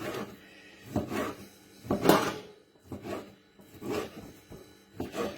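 A knife slices about eight ounces of steak into thin, long strips, giving a series of soft, close scraping strokes on a board, spaced roughly a second apart with quiet gaps between.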